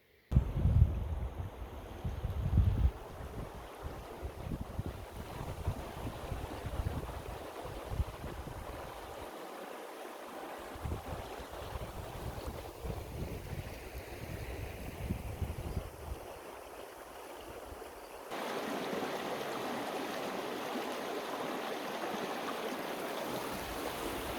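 A river flows past a woodland camp with a steady, broad rushing wash, fairly close and continuous, at times mixed with bumps and wind buffeting on the microphone.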